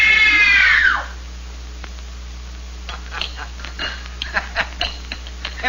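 A woman's loud, sustained scream opens the recording in a dramatic audio-drama screen-test scene, cutting off after about a second, then faint scattered sounds follow.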